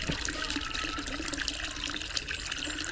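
Water pours steadily into a plastic bucket nearly full, a continuous rushing splash that stays loud and even throughout with no talking.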